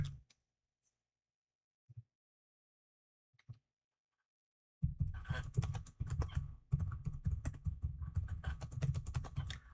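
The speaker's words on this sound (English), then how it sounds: "Just gonna have to keep typing this shit over and over again." Keys clack on a computer keyboard, with a few isolated taps at first, then a dense burst of continuous rapid typing, close and clear with no voices.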